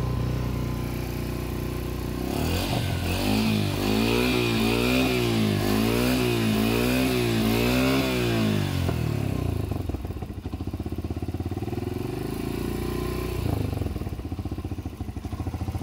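A Yamaha XTZ125 motorcycle engine idles close by, then revs up and down in several rising and falling pulls before settling back to a steady idle, loud and alone.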